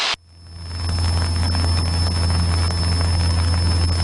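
A Cessna 152 light aircraft starts its takeoff roll, the engine roaring up quickly after a brief click and then holding a loud, steady drone with a high whine, heard from inside the cabin.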